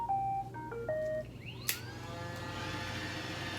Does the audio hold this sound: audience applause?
no